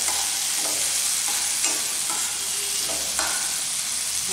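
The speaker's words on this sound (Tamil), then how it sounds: "தக்காளி போட்டு நல்லா வதக்கணும்" Tomatoes sautéing in a hot pan for Trikadugu rasam, a steady close sizzle and frying hiss with a few sharp stirring scrapes of the spoon against the pan.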